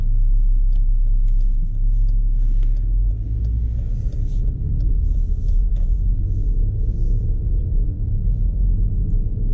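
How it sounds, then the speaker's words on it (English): Interior of a 2021 Dodge Durango GT on a test drive, a loud steady low engine and road rumble with faint rattles, no one speaking. "So driving the 2021 Dodge Durango GT. Well, it accelerates pretty quickly."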